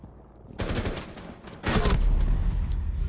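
Gunfire from Counter-Strike during a professional esports qualifier match: two dense, loud bursts of rapid shots, the second longer and sustained to the end, over a low background hum.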